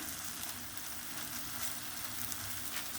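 Leek börek sizzles gently in a pan on low heat, a steady, soft crackling and hissing fry heard close and alone.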